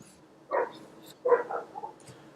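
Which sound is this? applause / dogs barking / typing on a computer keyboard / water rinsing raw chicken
dogs barking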